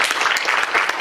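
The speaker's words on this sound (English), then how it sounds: "give yourselves a big round of applause" A lecture audience gives itself a round of applause after a talk, with a brief burst of dense, steady clapping from a roomful of people.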